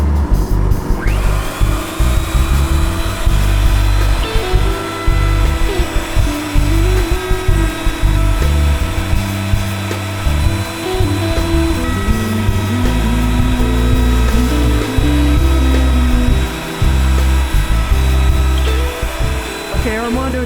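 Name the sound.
router with 1/4 inch bit beveling guitar body edge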